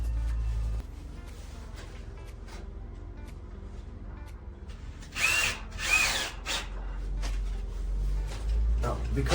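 A power drill drives screws into wood while rebuilding the interior of a former nightclub, with bursts of loud whirring and a grinding screw bite standing out over quieter handling noise.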